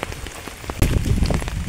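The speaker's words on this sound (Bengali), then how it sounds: "কি যে বৃষ্টি" Heavy rain pours on surfaces in a rural village, a loud, dense, steady patter that swells partway through, with no voices.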